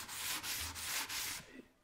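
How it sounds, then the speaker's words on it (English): A sanding block rubbed by hand across wood veneer, steady gritty strokes in a back-and-forth rhythm of about four passes, close and clear with no talking. "When you're sanding,"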